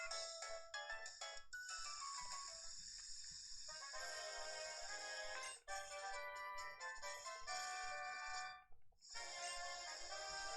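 Ringtone melody from a phone call in the Pokemon White 2 video game, a bright tinkling electronic tune that plays steadily and loudly for several seconds with a brief gap near the end.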